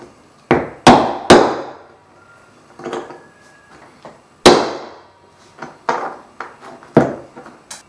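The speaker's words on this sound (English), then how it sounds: "that is basically how to peen a rivet" Hammer peening a rivet on a leather belt for early medieval re-enactment gear: a series of sharp, close metallic knocks at irregular intervals, several loud and some lighter taps, with quiet pauses between.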